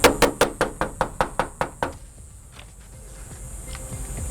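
Someone knocks on the door of a home in Midtown, Tucson: about a dozen sharp, evenly spaced raps, close and loud, followed by quiet room noise.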